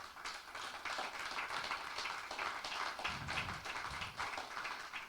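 Steady clapping from a church congregation, fairly distant and soft, continuing evenly throughout without voices.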